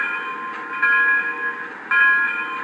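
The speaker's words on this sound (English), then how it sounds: "And here is the bell." A train bell rings steadily for a few seconds at a close, even level, with two sharper strikes standing out in the sustained metallic tone.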